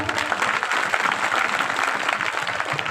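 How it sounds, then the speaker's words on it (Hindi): A seated audience at a Bhagavata Katha religious discourse in Datia, Madhya Pradesh, claps steadily together for a few seconds, a thick, even wash of applause with no voices over it. "सब अपने लिए एक बारी ताली बजा दीजिए"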